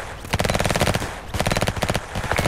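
Rapid machine-gun bursts in the Emergency video game, two long rattling volleys of evenly spaced shots, loud and close with brief gaps between.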